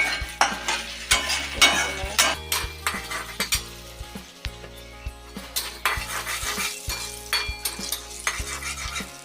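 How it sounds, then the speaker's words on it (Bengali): Black cumin and moong dal fry in hot oil in a wok, a constant sizzle underneath sharp rhythmic clinks and scrapes of a metal spatula stirring against the pan, close and fairly loud. "কালো জিরে দিলাম, দুটো মুগ ডাল দিয়ে দিলাম, একটু ভাজবো"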